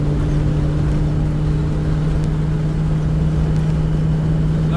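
Land Rover Defender 90 50th anniversary V8 automatic driving in top gear, a steady loud low engine drone with constant road and wind rumble, no distinct braking sounds standing out.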